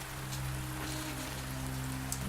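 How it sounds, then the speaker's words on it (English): Steady rain patters on a surface outdoors in muggy weather, a continuous wash of drops with a low hum beneath it and no voices. "That rain feels good, though."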